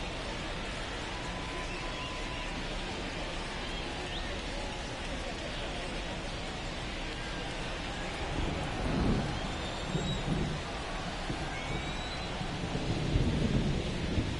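Heavy rain pours steadily in a baseball video game, Minnesota Twins at Chicago White Sox, with deep thunder rumbling in and swelling louder toward the end.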